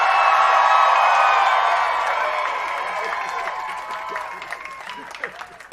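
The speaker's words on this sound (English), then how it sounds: "this is a big, boisterous crowd" A big, boisterous outdoor crowd at a Hollywood Walk of Fame ceremony for Tim Burton, a loud swell of cheering, whoops and applause that gradually fades as scattered claps and shouts trail off.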